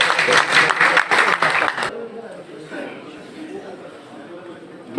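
An indoor audience claps loudly and densely at a ninth-anniversary ceremony for a Bangladeshi daily newspaper, the applause filling the first two seconds before cutting off abruptly to quiet room murmur with a faint voice.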